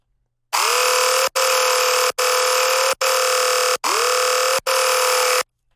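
Layered dubstep sustain bass, with a pitched, distorted layer stacked with stereo and mono copies, blares in six long buzzy notes separated by short sharp gaps, loud and alone.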